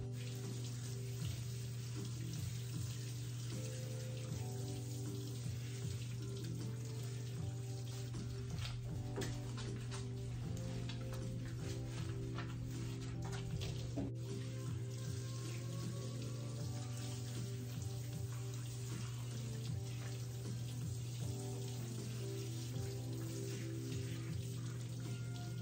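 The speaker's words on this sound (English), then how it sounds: "we're gonna go get her in the tub, get her all washed and blow dried" Water runs steadily from a tap into a tub while a schnauzer is bathed, a continuous close splashing flow with a constant hum underneath and no break throughout.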